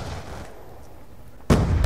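Gunfire in a shooting video game bursts out loudly near the end after a quieter, rumbling stretch, with a sharp broadband onset and sustained crackle.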